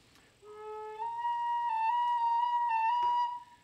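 Native American flute playing a short run of upper notes out of scale order, a lower tone then a sustained higher pitch that steps between neighbouring notes, clear and solo with a breathy edge.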